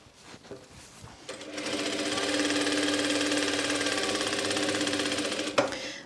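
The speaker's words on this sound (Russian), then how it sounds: "И теперь на расстоянии около сантиметра от края среза прокладываем строчку." A sewing machine runs steadily for several seconds stitching a seam about a centimetre from the cut edge of linen blouse fabric, with a stitch length of roughly 2.5–3 mm. It starts and stops with brief handling noises, close and fairly loud.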